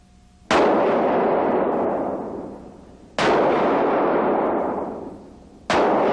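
Three loud handgun shots fired at a target, spaced a few seconds apart, each a sharp crack followed by a long, fading echo.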